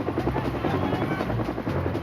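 A Colombian Army helicopter on a combat mission drones on in a steady, throbbing rotor chop with a continuous engine whine, moderately distant and unbroken, with no talk.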